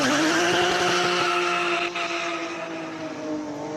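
A rear-wheel-drive, normally aspirated six-cylinder BMW 328 E36 race car howls past at a classic car speed event, a loud, sustained engine tone that drops in pitch and fades slightly as it moves away.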